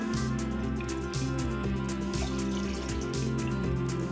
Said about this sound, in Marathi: त्यामध्ये आपण पाणी टाकून घ्यायचं आहे